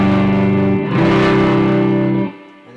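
Electric guitar through a Full Drive 2 overdrive pedal on its vintage setting, a sustained distorted chord that rings with rich harmonics, swells slightly, then decays and is cut off, loud with no voices.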